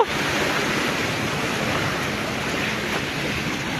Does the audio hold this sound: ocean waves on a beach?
yes